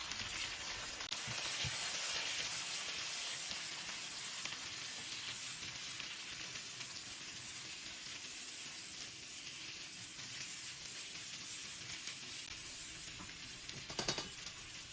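Continuous hissing sizzle of pointed gourd (parwal) cooking in a hot pan with turmeric, fading slightly over time, with a brief clatter near the end.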